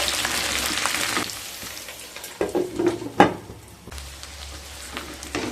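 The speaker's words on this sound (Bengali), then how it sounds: "পটল আর আলু ভালোভাবে ভেজে নিয়ে তারপর ফিরে আসছি" Pointed gourd and potato pieces frying in oil in a pan, a steady sizzle that dips midway, with a few sharp stirring scrapes and clinks before the frying swells again.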